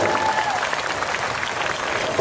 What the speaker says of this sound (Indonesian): Mana tepuk tangannya bagi Yesus?